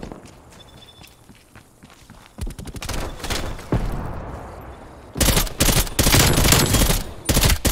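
Rapid automatic rifle fire from Black Ops Cold War gameplay, loud bursts crackling in dense volleys, quieter scattered shots and footsteps early on, then heavy sustained firing in the last few seconds.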